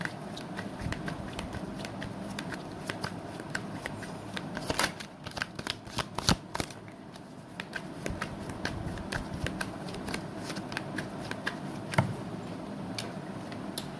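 Tarot cards being shuffled by hand, with a steady run of quick papery riffles and flicks and a few sharper snaps, close and alone.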